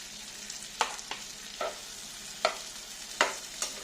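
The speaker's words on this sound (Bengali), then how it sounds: "দিয়ে এবার ভাজা ভাজা করতে থাকবো যতক্ষণ না টমেটোটা একটু গলে যায়।" Onion, tomato and green chilli fry in a pan for peanut butter chicken, a quiet continuous sizzle punctuated by about six sharp spatula scrapes at uneven intervals, close up with no talking.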